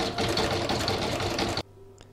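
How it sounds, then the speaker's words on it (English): A sewing machine runs a zigzag stitch in a steady, fast mechanical whir of rhythmic needle strokes for about a second and a half, then stops abruptly, leaving a faint hum. "Now I'm going to pop it back in my machine so that it will do the zigzag line to join that now."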